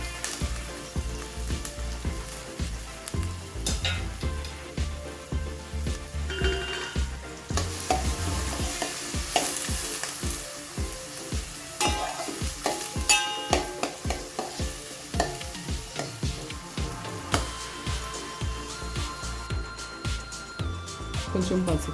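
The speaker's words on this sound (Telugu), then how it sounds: "ఒక ఉల్లిపాయ వేసుకున్నా." Sliced onion sizzles and crackles in hot oil in a pan for a Telugu green chilli gongura chicken, with steady frying hiss and rhythmic scraping of a spoon stirring throughout, close and fairly loud.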